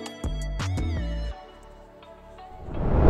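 A cat meows several times, with short repeated cries followed by a longer drawn-out meow that fades out.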